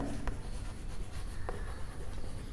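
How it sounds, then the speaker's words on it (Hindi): Pen scratching across paper as a physics statement on gravitation is written out, a steady close rubbing with a few sharper strokes over faint room tone. "पूरा स्टेटमेंट लिखेंगे"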